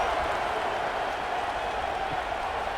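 Steady roar of a stadium crowd in the College Football 26 video game on Xbox Series X, a continuous loud wash of cheering and noise with no breaks.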